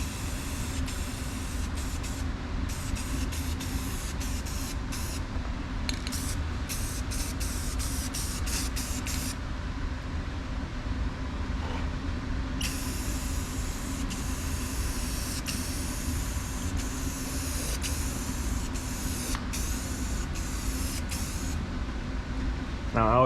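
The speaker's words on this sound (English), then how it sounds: "I'm just gonna put a nice thick coat on it." A spray gun lays a thick coat of paint on a Duramax truck frame, giving off a steady, continuous hiss with brief interruptions and restarts, mid-distance and fairly quiet.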